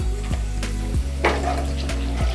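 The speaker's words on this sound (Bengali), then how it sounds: "এবার ফোড়নে দেবো 5-6টা এলাচ, দারচিনি, লবঙ্গ, জয়িত্রী, গোটা জিরে আর 2টো শুকনো লঙ্কা" Whole cardamom, cinnamon, cloves, mace, cumin seeds and two dried chillies sizzle in hot oil for a broccoli rezala. The frying is steady and close, broken by a few quick stirring knocks.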